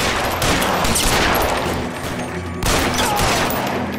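A gunfight in LA Noire with a shotgun-wielding enemy, heard as dense, loud, rapid rounds of gunfire that keep going steadily, with a short dip partway through before the volley starts again.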